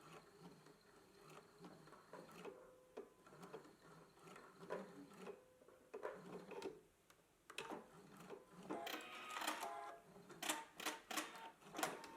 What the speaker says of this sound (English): I've just stitched along the upper edge of the continuous lap on the inside of the sleeve.